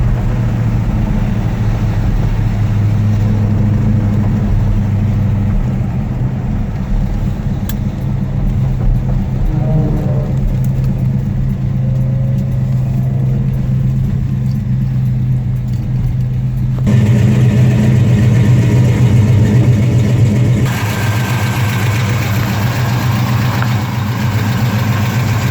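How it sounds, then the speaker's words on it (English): A 1972 Chevelle SS with a four-speed, driving in cold weather: a steady low V8 rumble held under load, with a slight rise in pitch and intensity partway through as the engine pulls harder. "Car hooks up pretty good. No stutter, no hesitation."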